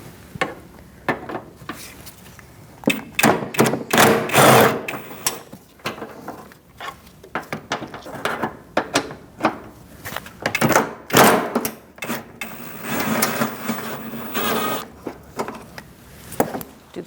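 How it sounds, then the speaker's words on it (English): A ratchet with a 10mm socket removing front bumper bracket bolts on a 2008-2014 Mercedes-Benz C300, with bursts of rapid clicking, metallic clunks and pauses between turns, close and loud. "We're going to take out these 2 bolts here. There's 2 on this side and 2 on the other side. We're going to use a 10mm socket for that."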